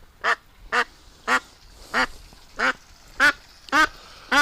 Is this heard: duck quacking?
yes